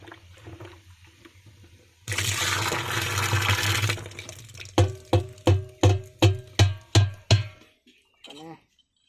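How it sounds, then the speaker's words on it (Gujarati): Liquid besan (gram flour) batter pours into a jeevamrut liquid fertilizer mix with a two-second rushing splash, followed by about nine evenly spaced sloshing pulses. "હવે આ જે 1 કિલો बेसन છે એ એડ કરીએ છીએ અત્યારે बेसनનો લોટ લિક્વિડ બનાવીને"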